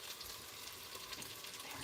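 Chicken pieces browning in avocado oil inside an Instant Pot give a soft, steady crackling sizzle, quiet and unbroken, with no voices.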